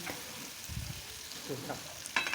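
Chopped tomatoes frying in hot oil with capsicum for paneer pav bhaji, a faint, soft sizzle with a few stirring scrapes and brief clinks, heard alone.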